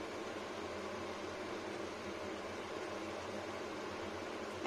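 Spinach and poppy seed dish boiling in a pot, giving a steady, even bubbling hiss with no talk, constant in level throughout.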